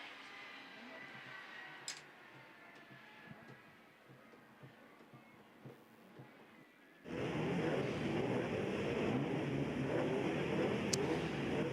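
Autograss race cars lap a dirt track at a Welsh national meeting, a faint engine drone at first that swells abruptly into a loud, sustained roar of several cars passing close, with a commentator talking over it.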